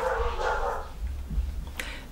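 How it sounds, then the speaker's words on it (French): A dog barks at Halloween as children ring for sweets, a few short barks and a whimpering yip standing out over a continuous background murmur, moderately close. "le chien aboie"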